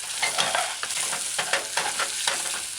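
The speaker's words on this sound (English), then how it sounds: "I can stir it like I'm using a wok." Pork and peppers stir-fried in a pot over a flame, wok-style, with a continuous loud sizzle and a steady rhythm of stirring scrapes close up, no voices.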